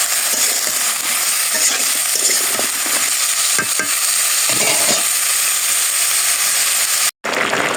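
Vegetables sauté in a hot pan with salt and a little turmeric, a steady loud sizzle with scraping stirs throughout, broken by a brief cutout near the end.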